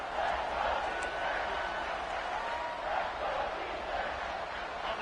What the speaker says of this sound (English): This crowd in Boone, North Carolina, they are showing out on this big 3rd down.